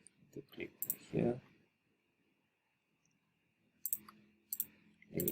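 Computer mouse clicks come in short, sharp bursts between stretches of near-silence in a quiet room, with a person speaking softly around them.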